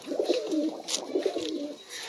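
A rare Sialkoti pigeon coos close by, two soft rolling phrases of low throaty notes in a quiet setting.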